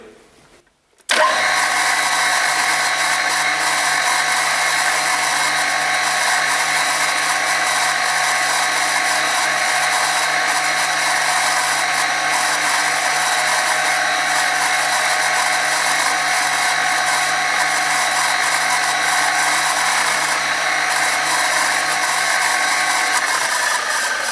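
A power drill with a 3.3 bit whines steadily at a constant high pitch for over twenty seconds, drilling a hole, loud and close, starting abruptly after a brief quiet moment.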